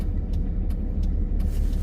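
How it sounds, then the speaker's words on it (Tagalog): A truck rumbles past on a road in a cold, frigid area, giving a loud, steady, close low roar with faint higher ticks layered over it and no voices. "Ayan, may truck na dumaan."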